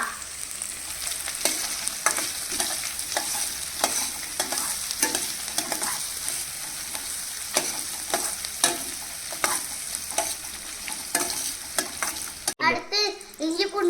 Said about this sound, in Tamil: அப்படியே தேங்காய் போட்டுடலாம் இப்போ நல்லா கிண்டி விட்டுக்கலாம்